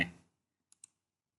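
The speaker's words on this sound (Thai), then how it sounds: "เราคลิกเข้าไป" Two quick, faint computer mouse clicks, a fraction of a second apart, open a menu in a plant-growing log app after a brief fading sound at the start; otherwise near silence.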